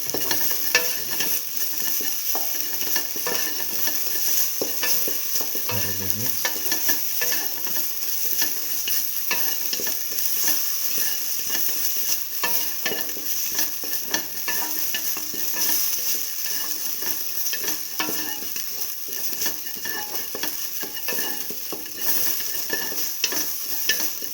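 Potato and split mung bean rice stirred with salt in a hot pan, a steady sizzle and frying hiss under continuous scraping of the spoon, unbroken for the whole stretch with no voices.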